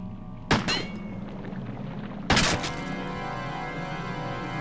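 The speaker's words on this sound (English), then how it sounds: "I just shot her in the fucking head" Two sharp gunshots from the survival horror game Crow Country, each a loud, close crack with a short decaying tail, the second followed by a lingering hum.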